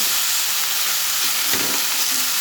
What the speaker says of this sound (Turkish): Sadece böyle değmeyenlerin de bir yüzü değişsin diye üstte kalanları falan aşağı alıyorum.